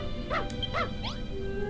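A dog in the video game Dragon Quest Builders 2 gives two short yips, followed by a softer rising whine, close and clear over a steady low game background.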